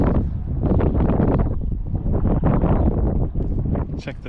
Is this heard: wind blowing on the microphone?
yes